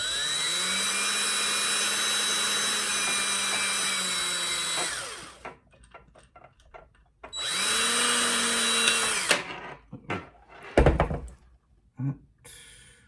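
A power drill whines steadily into wood for several seconds, stops, then runs again in a second burst, followed by a few clunks and knocks nearby.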